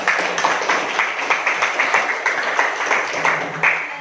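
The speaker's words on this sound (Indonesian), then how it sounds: "tepuk tangan untuk kita" A high school mathematics class breaks into a burst of rhythmic group clapping, brisk and fairly close, lasting a few seconds without talk.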